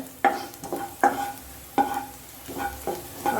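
Garlic frying in a pan while being stirred, with repeated scraping strokes over a steady sizzle, four or five distinct stirs close up and no talking.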